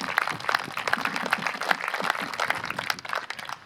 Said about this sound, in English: Give yourself a hand